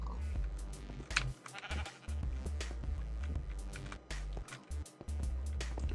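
Sheep bleating in the video game Minecraft, a few short bleats heard over steady background game audio and music, moderately loud throughout.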